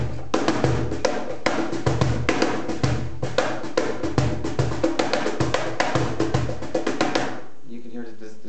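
A cajon played loudly for a rock style gives a rapid, even run of sharp snare cracks over deep bass thumps, close and dry, then stops about a second before the end.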